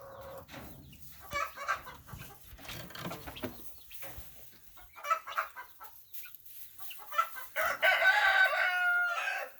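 Easter egger hens and other chickens cluck in a backyard chicken run with nest boxes, making steady irregular calls. The calls swell into a louder, busier burst of clucking and crowing near the end.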